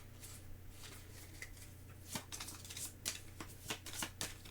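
Board game cards being shuffled at a table, a series of soft papery riffles and taps building into several sharper flicks near the end, close and fairly quiet over a low steady hum.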